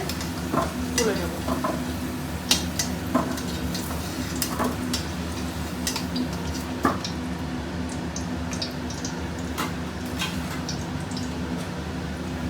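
Whole garam masala sizzles and fries in hot oil left from frying potatoes, a steady close crackle broken by scattered sharp pops and occasional stirring clinks, with no talking.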